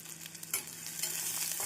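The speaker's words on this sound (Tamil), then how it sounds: "நாம் கடுகு பொரியவும் வெங்காயத்தை சேர்த்து விடலாம்." Onion, curry leaves and green chilli hit hot oil with spluttering mustard seeds for a cauliflower poriyal, bursting into a loud, steady sizzle after a few small pops, close and without talk.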